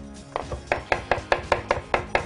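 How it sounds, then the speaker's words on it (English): A knife chops garlic on a cutting board, sharp rhythmic taps that start tentatively and settle into a steady even beat of about eight close strokes with no talking. "So this garlic, I'm gonna start by chopping it up"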